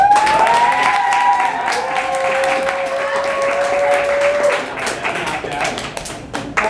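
Studio audience at an improv dating-game show clapping in a loud, close burst of many hands, with a voice and a sustained tone running beneath for the first few seconds before the applause thins out.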